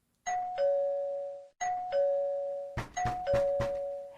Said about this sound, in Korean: 미친 듯이 울리는 초인종 소리에 여자는 헐레벌떡 문을 열었다